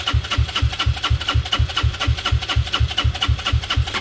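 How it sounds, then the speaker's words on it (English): A Benelli motorcycle engine idles steadily with an even, rapid pulsing beat, loud and close, with no speech over it; the carburettor is being fed by a suspect fuel pump. "If it doesn't start any easier than this, then it is definitely a new fuel pump situation"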